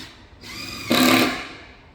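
A cordless driver spinning a PZ2 screw into shelving for a Milwaukee Packout front racking assembly, a short whirring buzz that rises in pitch and loudness before tapering off, close and alone.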